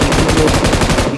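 Rapid automatic gunfire from the mobile battle royale game BGMI (Battlegrounds Mobile India), a loud, continuous stream of closely spaced shots filling the whole moment with no talk.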